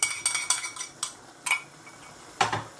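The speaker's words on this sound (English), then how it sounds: "Give it a bit of a stir" Utensil clinks and scrapes against a pan as cornflour mixture is stirred into chicken chow mein with pork and prawns, a handful of sharp intermittent taps spread unevenly over a few seconds, fairly close.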